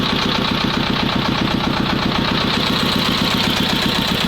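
A T-16 tractor engine runs steadily just after starting, a loud, close, rhythmic diesel chug with fast, even knocking pulses and no voices.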